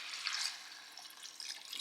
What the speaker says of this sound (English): Now I'm going to add this water.